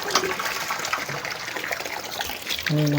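Rain falling around a mud-caked house during cleanup, a steady trickling and dripping wash of water near the mic, with a low tonal hum rising at the end.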